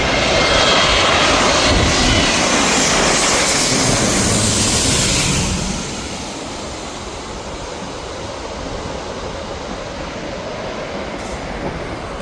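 Airliner passing low overhead at LAX: a loud, close jet engine roar that drops abruptly in level midway and fades into a lingering distant rumble, with no talk.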